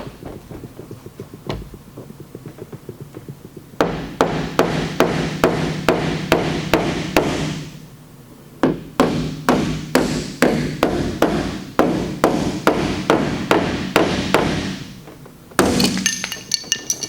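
A body hammer taps down high spots on a Toyota RAV4 panel during dent repair, striking metal in quick, regular runs of sharp knocks. Brief pauses separate the bursts, and each run is close and loud.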